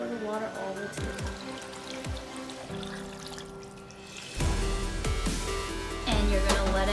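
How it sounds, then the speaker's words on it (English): Water pours into a pot of pho broth ingredients, a trickling stream that turns into a fuller, louder gush partway through, with clinks and knocks from the kitchen. "And you're just gonna pour the water all the way to the top."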